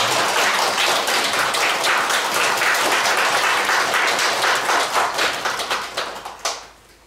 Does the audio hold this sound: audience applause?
yes